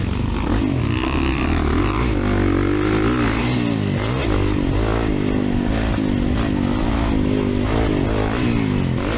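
A 2024 Kawasaki KX450 dirt bike races around the Eugene MX motocross track, its engine loud and close with wind buffeting, the revs rising and falling in continuous surges.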